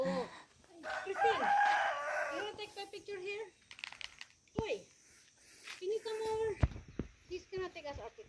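A rooster crows nearby, the drawn-out call standing out among nearby clucking, while people and someone talk over and around it.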